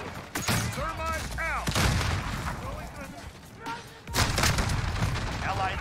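Gunfire in a multiplayer shooter game, sharp bursts and volleys of shots with loud impacts, mixed with in-game voices and effects over a busy battle backdrop.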